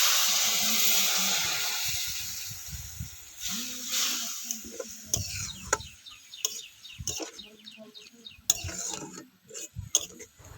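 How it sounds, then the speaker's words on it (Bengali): Water goes into a pan of garlic and onion paste, setting off a loud sizzling hiss that gradually dies away. Scattered clinks and scraping of stirring follow close by, with no voices. "এবার দিয়ে দিচ্ছি একটু জল"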